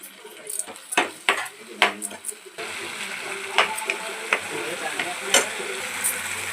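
A spoon stirs and scrapes through veg manchurian sizzling in a pan as vinegar and tomato sauce are mixed in, with sharp clinks early on, then a steady frying hiss.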